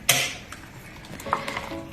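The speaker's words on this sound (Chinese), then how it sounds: "加入2个蛋黄，加进来搅拌均匀" Egg yolks are whisked quickly into a lightly salted mixture in a warm pan while making a salmon soufflé. Light scraping and clinking of a utensil against the pan, with a few sharper taps and short metallic ticks, sounds close and moderately quiet.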